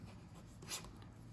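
A Zig Clean Color dot marker writes across dot grid paper in a steady, soft, close scratch. It keeps going for the full stretch, and no one is talking.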